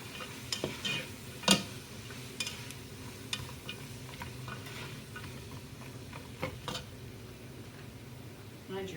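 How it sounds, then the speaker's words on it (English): Carrots and cabbage being stirred in a frying pan while cooking shrimp chilli, a soft sizzle under scattered scraping and clinking utensil strokes against the pan. "you'll just add your carrots and your cabbage in there. And stir them around."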